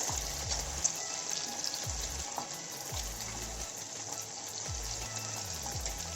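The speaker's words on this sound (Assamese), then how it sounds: "এয়া দেখিছে আমাৰ এগটো ফ্ৰাই হৈ গৈছে।" An egg fries in a pan on medium heat while making egg chowmein, giving a soft continuous sizzle with faint scraping and clinking of a utensil.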